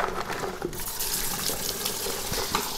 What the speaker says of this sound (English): fill my sink with cold water to give them a nice little rinse